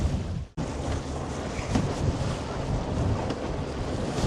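Wind blowing over a sailboat on a bay, a steady loud rush of wind noise buffeting the microphone with water wash beneath, briefly dropping out near the start, no voices.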